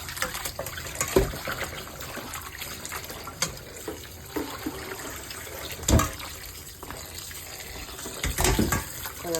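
Hot water is poured into a cooking pot of mung dal with meat, a splashing liquid rush broken by clanks and knocks from the pot, with no talking.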